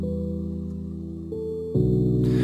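A low-passed piano loop layer for a cinematic intro, playing muffled sustained chords that shift twice, with a brighter, fuller change near the end, steady and alone without voices.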